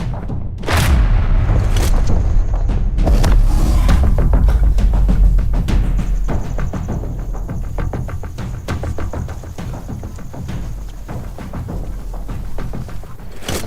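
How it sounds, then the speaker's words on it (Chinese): Gunfire in a Chinese action film about special forces rescuing a kidnapped military engineer: loud booming shots and thuds, a dense burst early, then a rapid rattle of lighter impacts over continuous rumbling. "哪儿开枪？"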